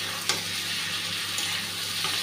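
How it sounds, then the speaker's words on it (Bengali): Potatoes and Chandana dried fish frying in a pan with ground chilli paste, a steady close sizzle throughout with occasional stirring scrapes and no talking. "এখন আলুটা দিয়ে দিচ্ছি, আর চন্দনা শুটকিটাও দিয়ে দিচ্ছি।"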